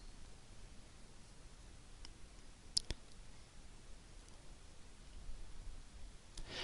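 Computer mouse clicks on a quiet desk, a few light isolated ticks with one sharper double click near the middle, over faint room hiss and no speech.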